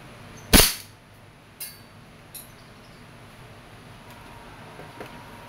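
A single sharp shot from an Umarex Colt 1911 M45 CQBP airgun firing 4.5mm steel BBs at a target about two meters away, loud and close, followed by two fainter clicks and quiet room tone.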